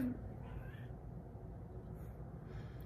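A female cat meows for attention in the morning, her short cries faint against steady low background noise in an indoor room.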